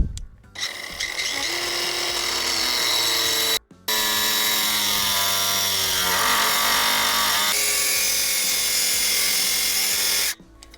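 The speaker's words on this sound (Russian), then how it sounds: "я думал, что болгарка будет даже послабее. А она еще ничего режет" An angle grinder whines steadily with a high, harsh cutting tone, running for several seconds with a brief pause as it bites into material.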